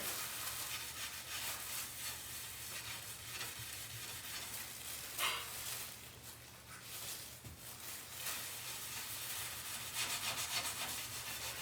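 A wet kitchen scrub sponge loaded with cleaner scrubs fireplace glass, producing close, continuous rubbing and swishing strokes in a steady back-and-forth rhythm, with no talk.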